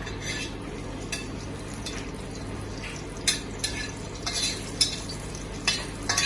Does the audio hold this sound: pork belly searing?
yes